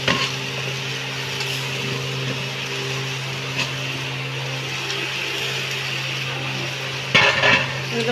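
Raw mango pickle is stirred in an overfull wok, with a steady scraping and rustling of the spoon through the thick mixture over a constant low hum, and a louder clatter near the end.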